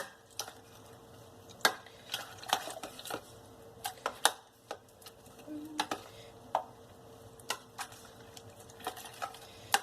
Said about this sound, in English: So I'm just going to try mixing this in and melting it